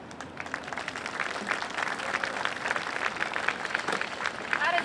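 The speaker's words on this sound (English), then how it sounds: "Please give another round of applause for Mr. Scott." An audience applauds steadily at an Earth Day breakfast press conference, a dense wash of many hands clapping in a large room, holding at an even level throughout.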